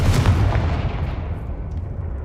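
A Confringo blasting spell explodes in Hogwarts Legacy, a loud booming blast that rumbles and fades away over a couple of seconds.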